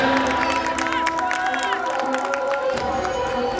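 Crowd at a Ramlila Ram Rajtilak and awards ceremony in Azadpur claps and cheers, a dense close wash of applause with shouts and whoops, and a voice carrying faintly above it throughout.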